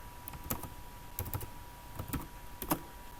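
Typing text on a computer keyboard: scattered, crisp key clicks in short bursts and single taps, close and fairly quiet, with no speech.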